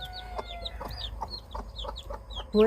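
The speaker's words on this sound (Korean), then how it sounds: "저렇게 꼬꼬거리면서 관리를 하는데" A farm hen clucks in quick repeated bursts, close and moderately loud, with short rhythmic calls throughout and a louder cluck at the very end.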